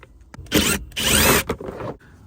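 A power tool drives Torx 30 bolts out of the bottom plastic cover on a Freightliner Cascadia truck. It whirs loudly and up close in three short bursts.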